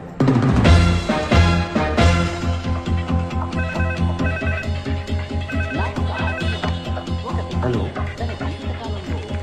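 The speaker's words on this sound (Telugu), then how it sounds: "నీకు ఫోన్" A phone ringtone goes off during a Telugu film scene, a loud, steady melodic ring that repeats its pattern without a break for about nine seconds.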